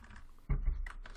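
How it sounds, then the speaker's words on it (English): Arrow keys tapped on a computer keyboard, a few close, crisp clicks with one heavier thump in the middle, alone with no voices. "Again, I'm using arrow keys on my keyboard."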